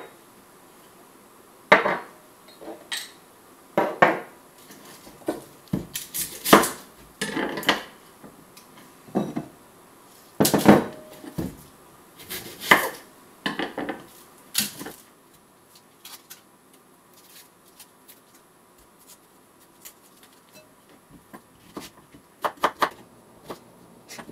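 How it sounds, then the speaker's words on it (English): Knife chopping vegetables on a cutting board while making a vegan African peanut soup, heard as irregular clusters of sharp, close knocks with short pauses between, fading to lighter taps toward the end. "So I'm going to get chopping."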